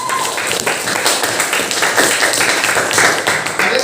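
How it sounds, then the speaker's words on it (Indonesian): A classroom of students clapping their hands together, a dense, steady burst of applause that fills the room loudly and continuously throughout. "Tepuk tangan dulu untuk kita semua"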